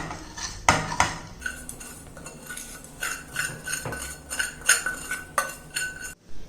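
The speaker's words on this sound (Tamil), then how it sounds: "இதை வந்து நம்ம இந்த மாவில் போட்டு கிண்டிக்கணும்" A spoon scrapes and clinks inside a metal pot while sautéed ingredients are stirred into millet flour dough for sweet kozhukattai, giving irregular metallic taps and scrapes, close and fairly quiet.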